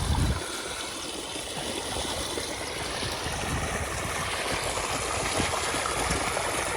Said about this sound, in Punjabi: ਪਾਣੀ ਦੇਖੋ ਬਈ ਕਿੰਨਾ ਆ ਰਿਹਾ ਮੋਟਰ ਦਾ